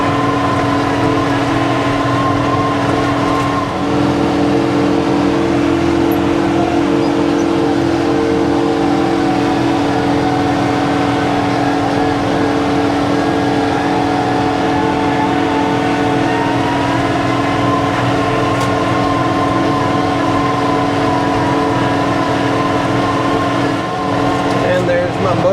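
A John Deere 4066R compact tractor engine runs steadily at close range on a five-acre food plot, giving a continuous droning hum with a constant tone for the whole stretch.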